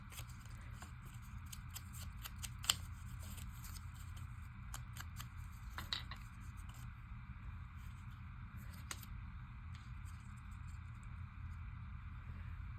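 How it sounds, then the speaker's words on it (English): Scissors snip paper at irregular intervals for a grid collage, with sharp little clicks scattered over a quiet, low background hum. "let's cut this to size a little bit better."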